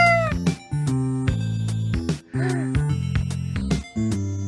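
Repeated synthetic cat meows from the game Wyndragon's Tales, loud and close, come in a steady series of short tonal cries with brief gaps.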